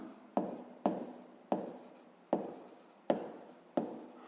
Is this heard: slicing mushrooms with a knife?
no